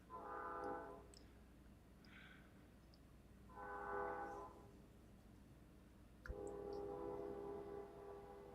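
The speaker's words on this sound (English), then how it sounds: "I hear the train coming." A train horn sounds in the distance in three separate blasts, each about a second long, over a steady low rumble of a passing train.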